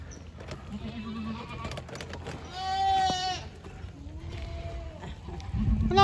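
A goat bleats with a wavering cry amid soft background noise and rustling at a park farm, followed by quieter calls.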